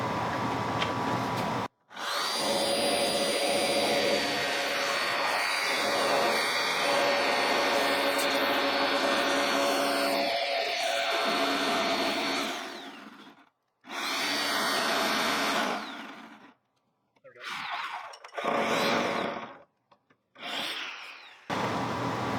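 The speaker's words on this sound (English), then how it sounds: "I'm going to use my reciprocating saw like a jigsaw, and we're going to make this cut" A reciprocating saw, used like a jigsaw, cuts through wood during subfloor and joist repair in a duplex, running loud and close in a long continuous burst, then briefer stop-start bursts near the end of the cut.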